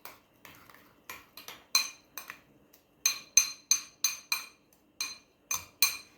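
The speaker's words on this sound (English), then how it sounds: "Just going to give this a really, really good stir, because you got to try to get that Marmite to stir up in there." A spoon stirring Marmite into water in a dish, making light metallic clinks in quick clusters of taps against the sides, fairly quiet and close with short pauses between bursts.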